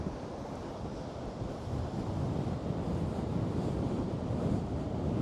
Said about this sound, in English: watch the waves smashing in